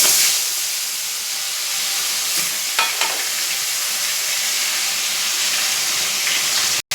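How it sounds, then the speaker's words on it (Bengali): Bhola fish frying in a pan gives a steady, close sizzle and hiss with a few faint clinks of stirring, continuous and alone without speech. "মাছটা ভেজে নিচ্ছি।"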